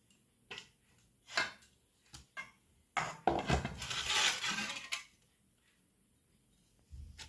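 A kitchen knife cuts a radish into thick round slices on a board, giving a handful of separate chopping knocks followed by a longer rough scraping stretch, then quiet.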